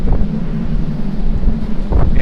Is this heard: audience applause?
no